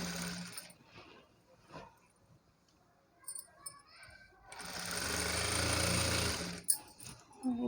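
A sewing machine stitches a fall onto a saree: after quiet handling noises and light clicks, a steady, loud burst of rapid needle chatter runs for about two seconds, then stops abruptly.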